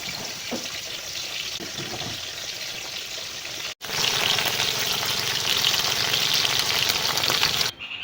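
Fish frying in a pan for a Bengali fish curry, a steady loud sizzle and crackle that drops out briefly midway, then returns stronger and continues without talk.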